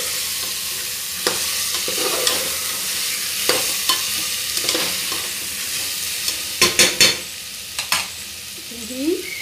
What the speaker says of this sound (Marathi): ते चिरून ठेवलेले बटाटे घालूया. व्यवस्थित परतून घेऊया.